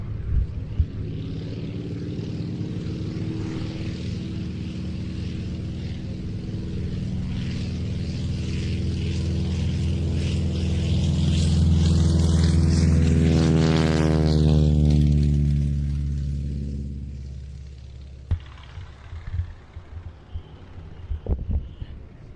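Beech Staggerwing radial-engine biplane at the Old Buckenham airshow passes by after takeoff, its propeller drone swelling to a loud peak with a clear pitch drop as it goes past, then fading into the distance.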